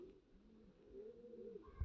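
A pair of pigeons in a loft gives low, drawn-out coos, faint and close, a few soft rolling calls in sequence ending in a brief louder bump.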